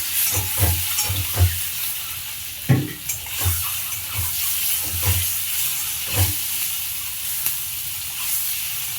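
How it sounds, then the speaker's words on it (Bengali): Eggs fry in a little oil for egg curry, a continuous hiss and crackle of sizzling punctuated by soft knocks and scrapes of a spatula against the pan. "ডিম ভাজতে গেলেও কিন্তু অনেক সময় তেল ছিটে আসতে পারে"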